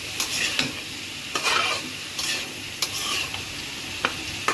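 Papaya bhaji being stir-fried in a pan: a steady close sizzle with repeated scraping stirs of the spatula at an irregular rhythm, and no voices.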